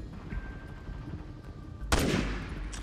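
Gunfire in the video game Resident Evil 6, Ada's Story chapter 3: a sudden loud burst of shots or an explosion strikes about two-thirds of the way through, after quieter game ambience with a faint tone, and the noise lingers afterward.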